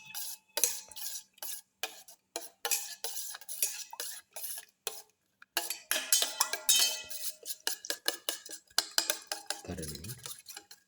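Cashews being mixed into beaten egg for a black pepper omelette: rapid rhythmic clinking and tapping of a utensil against a bowl in quick bursts with brief pauses, close and clear, no talk.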